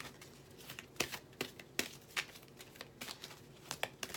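Soft, close crinkling and snapping of tarot cards being shuffled in quick irregular bursts, quiet overall with no voices.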